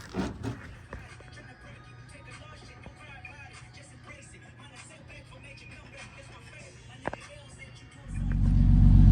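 An Infiniti G37 engine idles with a steady low rumble after a spark plug replacement, then revs up loudly near the end; faint background voices are present throughout.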